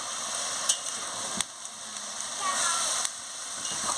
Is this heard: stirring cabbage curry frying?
yes